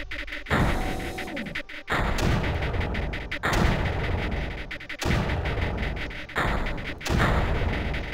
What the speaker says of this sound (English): Only let it shoot like twice.